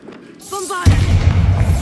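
A Bombarda blasting spell detonates in Hogwarts Legacy: a deep, loud boom hits abruptly after a brief spoken cue, with a rumbling low-end tail that holds strongly to the end.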